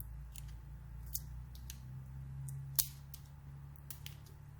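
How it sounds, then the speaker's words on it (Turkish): Protective plastic film is peeled off a Wacom graphics tablet pen, giving faint scattered crinkles and a couple of sharper snaps over a quiet steady hum. "Hatta kalemimizin de jelatinini çıkartalım."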